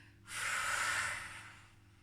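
One long, audible breath during an exercise, rising sharply and holding as a steady breathy rush for about a second before fading away, close and alone.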